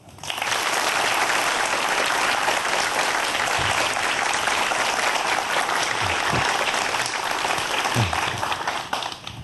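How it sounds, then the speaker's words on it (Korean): An audience at a science lecture applauds steadily, a dense wash of clapping that rises quickly and continues for several seconds before tapering off. "오늘의 강연을 해주실 유재설 교수님을 큰 박수로 모시겠습니다."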